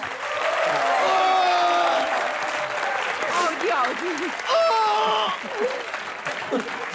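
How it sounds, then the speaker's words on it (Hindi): Studio audience applause on a comedy show during a mock wedding farewell, steady and sustained throughout, with whistles or cheers and voices mixed in. "जरा तालियां हो जाए जरा अभी"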